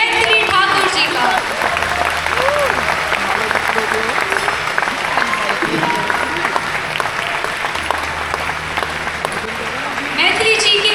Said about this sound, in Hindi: जोरदार तालियों के साथ स्वागत किया जाए